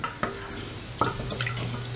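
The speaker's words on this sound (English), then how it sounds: "this takes a long time though. And you have to keep stirring." A spoon stirs farina cooking with milk in a pot on the stove, giving soft scrapes and a couple of light clinks against the pot, close and quiet over a low background hum.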